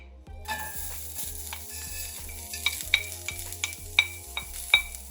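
Spices and coconut roast dry in a pan while a spoon stirs, bringing a steady low sizzle and sharp scrapes and clinks of metal against the pan at close range.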